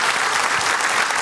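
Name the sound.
studio audience applause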